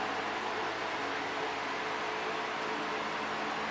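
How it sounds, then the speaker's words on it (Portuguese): An electric fan runs at high speed during hot weather, giving a loud, steady, even whoosh of air that holds unchanged throughout with no other sounds. "alto o barulho do ventilador, mas é que tá um calor insuportável e eu tive que ligar"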